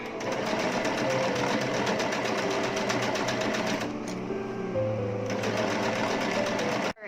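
A sewing machine runs a continuous running stitch along the edge of a ribbon for a DIY ruffle top, its rapid needle clatter close and steady throughout, briefly easing in pace midway before resuming and stopping abruptly at the end.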